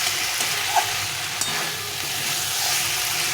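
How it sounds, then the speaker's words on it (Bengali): Tomatoes being sautéed with spices in a pan for a Bengali fish curry, giving a steady close sizzle with occasional spoon stirs and scrapes throughout, no talking. "এটা ভালো করে একটু কষিয়ে নিতে হবে টমেটোটাকে"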